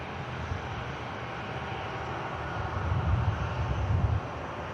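Aircraft taxiing at Manchester Airport in the northwest UK, heard as a steady low engine rumble that swells slightly louder toward the end, with no talk.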